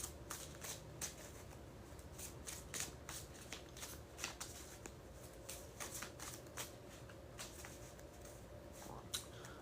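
Tarot cards are shuffled by hand in quick, papery riffles and slaps, repeating in short irregular bursts, quiet and close throughout.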